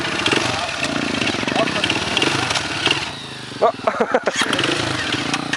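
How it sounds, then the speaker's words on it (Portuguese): A motorcycle engine cranks and sputters as it is started, with a steady engine drone running throughout and people talking close by. "Como que liga a moto aqui, não?"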